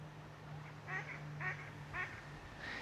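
Ducks at a small university duck pond give about four short, faint quacking calls spaced roughly half a second apart over a steady low background hum, with no talking.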